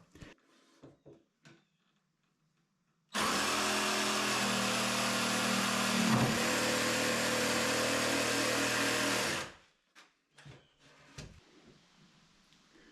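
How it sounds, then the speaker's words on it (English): A jigsaw cutting wood for the stairs of a DIY cabin deck runs as one loud continuous buzz of about six seconds, with a few clacks and knocks of handling before and after. "rather than fight with this saw, I'm going to use the jigsaw"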